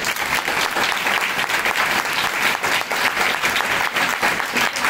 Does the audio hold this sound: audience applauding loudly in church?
yes